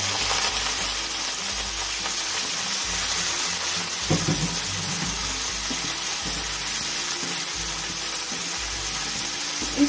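Boiled vegetables fry with cumin and whole garam masala in a hot pan, a steady loud sizzle with occasional stirring scrapes.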